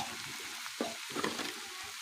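Fish fat frying with winter vegetables in a pan, a steady close sizzle with a few stirring scrapes and clinks, no talking.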